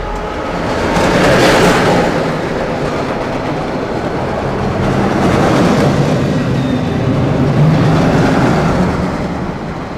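The Bullet roller coaster train at Selva Magica edges forward before its reverse launch: a loud, continuous mechanical rumble and rattle close by, swelling and easing, with no voices.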